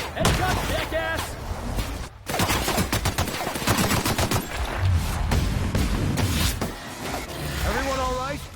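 Bursts of gunfire in the sci-fi shooter video game The Outer Worlds ring out loud and dense, dozens of sharp cracks over a churning din, with voices talking and shouting over the shots.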